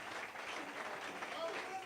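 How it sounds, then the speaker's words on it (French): A church congregation claps and cheers in praise of the Lord, a dense, steady wash of applause mixed with voices that holds at an even level for a couple of seconds. "Acclamez pour le Seigneur"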